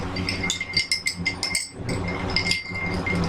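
Martini stirred in a glass, with a spoon clinking and ringing against the glass in a quick irregular rhythm, close and clear over a steady background.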